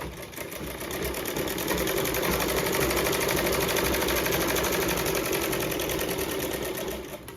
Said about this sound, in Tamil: 2 துணியை அமுத்தி விட்டுட்டு நீங்கள் வந்து தைச்சி விட்டுக்காங்க.